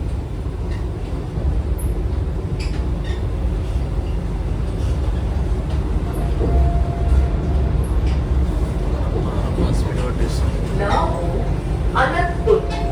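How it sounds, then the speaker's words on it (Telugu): A Vande Bharat Express train slowing as it nears a junction station, with a steady loud rumble and rattle heard from inside the carriage, faint brakes or squeals near the end and chatter in the background. "ప్రజెంట్ డౌన్ జంక్షన్ దగ్గర అయితే ట్రైన్ వెళ్తా ఉంది."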